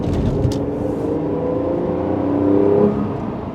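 A 2011 Lotus Evora sports car pulling away and accelerating, its engine note close and loud, rising in pitch through the revs with a brief whir as it gathers speed.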